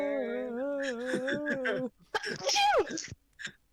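A loud, explosive human sneeze bursts out right after a person's drawn-out sung or hummed voice, with brief talking before and a short vocal sound after.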